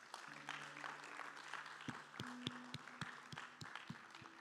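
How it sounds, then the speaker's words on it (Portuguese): A church congregation applauds at a service, faint and distant clapping with a few sharper individual claps, mixed with sustained background tones and a low roomy hum. "Você pode aplaudir Jesus por isso?"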